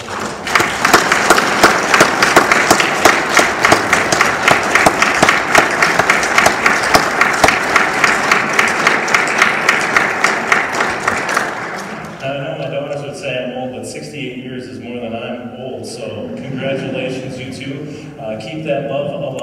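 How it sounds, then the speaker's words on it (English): A church congregation gives loud, sustained applause for a couple's 68 years of marriage, dense clapping lasting about twelve seconds before fading into organ or piano music and murmuring. "give a great thunderous applause for 68 years of marriage to Chet and Betty Bundy"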